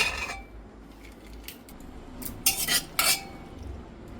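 Metal clanks and clinks from a pressure cooker lid being opened after two whistles have released the pressure, while cooking kabuli chana for a pumpkin curry; a few sharp, close knocks in quick succession over a quiet kitchen background.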